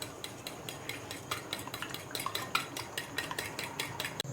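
Eggs being beaten with sugar in a bowl for French toast pizza, a fast steady clinking of a utensil against the bowl, close and fairly quiet, rhythmic throughout with no voices.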